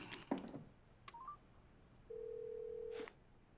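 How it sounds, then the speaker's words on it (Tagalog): A telephone number is dialed by hand: a few short beeps sound, then a steady tone holds for about a second. Below them is a low background hiss, with no talk. "Tatawagan ko na siya ngayon para sa'yo."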